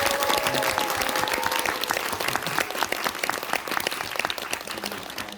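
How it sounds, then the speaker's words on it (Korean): Steady audience applause at a musical's closing-performance curtain call in a theater, dense and continuous clapping from a crowd throughout, fairly loud with no talking over it. "큰 박수로 맞이해주시죠"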